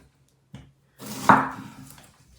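A knife cuts pears into strips on a board, giving a single firm chop followed by a short scraping slice, close and fairly quiet.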